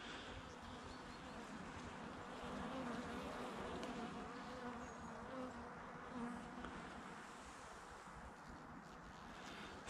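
A honeybee colony at an apiary in November buzzing softly and continuously, a low, even hum with light wind noise and no talk.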